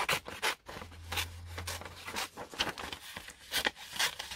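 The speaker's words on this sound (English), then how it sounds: "all I'm going to do is just fussy cut around" Scissors make soft, repeated snipping and rustling as they fussy cut around a paper flower motif for a junk journal, close and quiet, with intermittent scrapes of paper.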